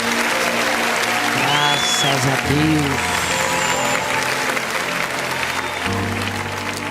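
A church congregation claps together in sustained, dense applause during a worship service, loud and continuous, while a voice speaks and sings over it.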